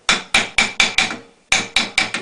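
A hammer taps sheet metal over a hammer form while shaping an airbox, eight sharp ringing metallic strikes in a steady rhythm with one brief pause, loud and close.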